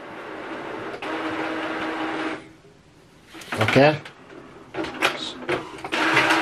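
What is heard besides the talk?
HP DeskJet 3764 printer printing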